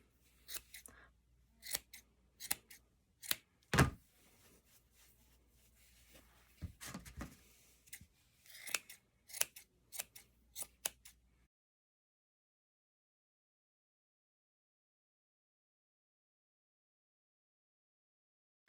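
Scissors snipping through wound yarn to free a pom pom, a series of crisp, close cuts in irregular bursts for about eleven seconds before falling silent.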